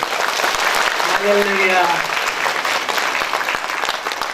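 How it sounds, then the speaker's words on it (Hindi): A church audience at a prophecy and healing festival in Agartala, Tripura claps loudly for a few seconds, a dense sustained burst with a voice calling out over it. "क्लास तालियां बजाइए।"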